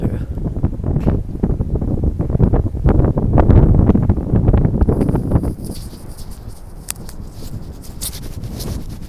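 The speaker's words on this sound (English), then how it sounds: "That was kind of a windy little tunnel there." Wind roars through a short pedestrian tunnel at a marina on San Diego Bay, heavy buffeting rumble against the microphone that eases after about five seconds into lighter gusts and rustling.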